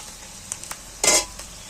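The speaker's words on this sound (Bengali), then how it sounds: "এখানে আদা রসুনটা ভাজা হয়ে গেছে" Ginger and garlic paste frying in a pan for an egg and masoor dal dish: a short, bright sizzle burst with a few light utensil clinks over a quiet kitchen background.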